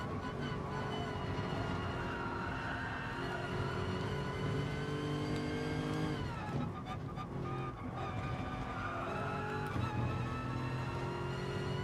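Race car lapping Brands Hatch GP in a racing video game, a continuous high revving engine that climbs and drops through gear changes, with a brief lift near the middle and faint commentary underneath.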